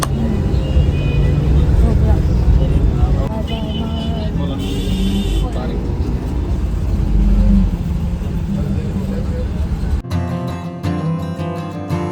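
A bus sets off and drives along, its mid-pitched engine droning and rising under continuous nearby chatter among passengers, before the sound cuts abruptly near the end.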